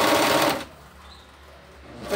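Sewing machine stitching fabric for a turban, a loud close burst of rapid mechanical whirring that stops abruptly and gives way to near quiet before briefly starting again.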